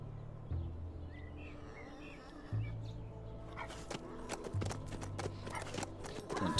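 Horse hooves clopping steadily as the mount is ridden through HumanitZ, a survival game, moderately close and rhythmic amid faint birdsong, picking up briefly near the end, with no voices.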